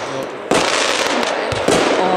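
Fireworks shots fired as a pre-show test in a cellar in Nuremberg: a sharp loud report followed by dense crackling, then a second blast, with voices faintly underneath.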